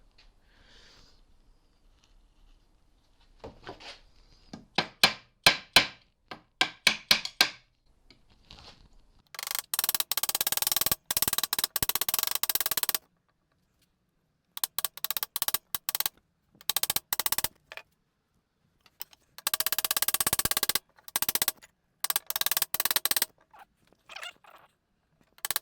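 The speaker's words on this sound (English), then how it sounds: "Now I mentioned hammering in from the edges first" Metal frets are hammered into a guitar fretboard, with bursts of sharp, close taps in quick clusters separated by short pauses and longer stretches of harsh noise, and no talking.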